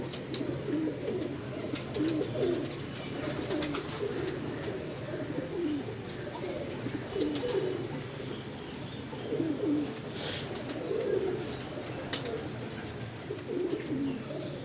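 Pigeons cooing steadily in a coop during bad weather, their low rolling coos repeating in overlapping bursts every second or two, fairly close, with a few faint chirps and no talk.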